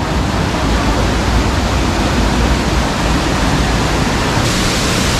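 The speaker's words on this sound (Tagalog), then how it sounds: "Sa lakas nung bagsak nung tubig ni Mother Falls" The Mother Falls waterfall in Ditumabo, San Luis, Aurora, with water crashing down hard: a loud, close, unbroken roar of broadband rushing noise, steady throughout and with no voices.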